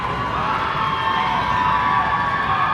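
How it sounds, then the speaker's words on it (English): A home crowd at a high school girls' basketball game cheers and shouts in a loud, sustained roar that fills the gym without a break. "let this Township crowd get a little loud"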